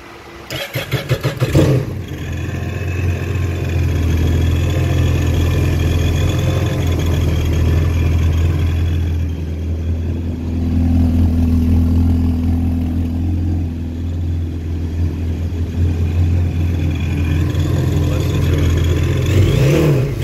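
A supercharged 2018 Yamaha GP1800 SVHO watercraft engine cranks to life, then runs loud and steady close by with a deep droning idle and rising revs, and no speech.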